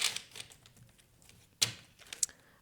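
Tarot cards shuffled by hand close to the microphone, giving irregular soft clicks, taps and brief riffling bursts with a few sharper snaps. No one speaks.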